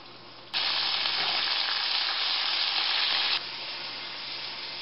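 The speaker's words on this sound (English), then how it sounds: "let's see how this bacon's coming along" Bacon sizzles loudly in a pan, a steady broadband crackle that swells suddenly and holds for a few seconds before easing back to a softer fry, with no one talking.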